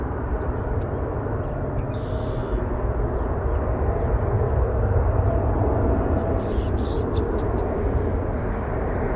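An Embraer 175 at Toronto Pearson gives a steady, moderately loud engine rumble and roar that barely changes, with a couple of faint brief high chirps above it.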